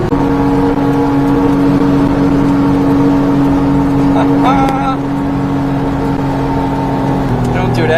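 A supercharged mini truck climbing a hill in a race against a small truck: a loud, steady engine drone with layered tones, holding close and continuous throughout.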